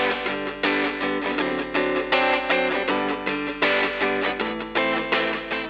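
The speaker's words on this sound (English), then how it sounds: "Now let's hear it with delay." Electric guitar with a delay effect playing a steady run of sustained chords, each strum followed by trailing repeats, rich and fairly loud with no voices.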